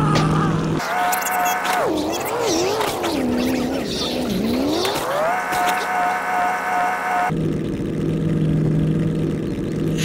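A car engine in the survival video game Apocz revs up and down with rising and falling pitch and a brief tire squeal, loud and close, then cuts to quieter ambience near the end.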